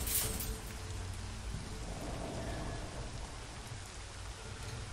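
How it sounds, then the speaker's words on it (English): Steady rain in a video game, an even broadband hiss of falling drops spattering on surfaces, continuous and fairly close for the whole stretch with no talking over it. "playing in the rain!"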